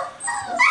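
Puppies about four and a half weeks old, Berger Blanc pups, give a short close whimper that rises into a high yip, all within less than a second.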